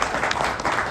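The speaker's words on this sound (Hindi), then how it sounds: "ताली बजा दें इनके लिए।" An audience applauds at a live event in Agra, a brief burst of dense, steady clapping filling the whole moment.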